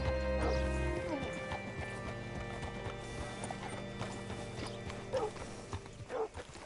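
Horse hooves clip-clopping in the game Red Dead, a steady run of close hoof beats that slows and settles, with a snort or whinny and a game voice speaking over it.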